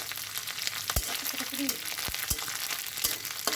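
Dried phasa fish sizzles in hot oil in a pan, with a steady crackle close by and several sharp knocks of a spatula against the pan; a brief murmur of voice sits under it.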